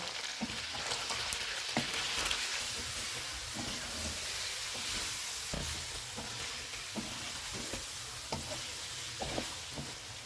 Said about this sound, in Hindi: अब इसमें हम 50 ग्राम बटर डालेंगे, अदरक और लहसुन का पेस्ट और इसको 2 मिनट तक भूनेंगे।